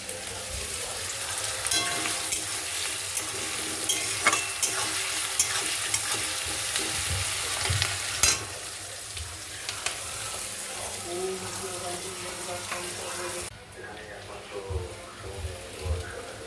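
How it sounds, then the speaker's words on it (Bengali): Sliced onion and cashew nuts fry in a pan with a crackling sizzle, broken by repeated scraping and stirring strokes, close and moderately loud; the sizzle drops off near the end. "এবার পেঁয়াজটা ভাজছি কাজু বাদাম দিয়ে"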